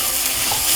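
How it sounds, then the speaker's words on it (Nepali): Moong dal stirred in a frying pan, a brief close burst of sizzling and scraping with no voices. "दाललाई चलाउँ।"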